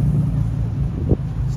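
Aston Martin DB2 passing along a Paris street, a low, steady engine rumble close by with a brief bump near the end, blended with city background noise.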